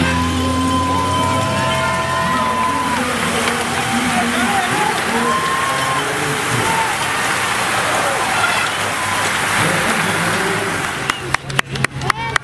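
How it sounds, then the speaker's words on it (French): Steady rain falls outdoors at a Grand Prix cycling race in Montréal, a continuous dense hiss with faint voices and crowd murmur underneath and a few sharp knocks near the end. "La pluie, vous en pensez quoi?"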